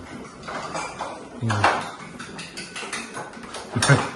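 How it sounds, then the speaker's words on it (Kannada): A spoon clinks against a bowl as eggs are whisked for an omelette in a home kitchen, with irregular light taps and scrapes and two louder clatters, while someone talks throughout. "ಆ ಕೈಯಲ್ಲಿ ಮೊಟ್ಟೆ ಕಲಿಸ್ತಾವಳೆ, ಈ ಕೈ ಸ್ಪೂನ್ ಎತ್ತಿದ್ದಾಳೆ ನಮ್ಮ ಅಕ್ಕ"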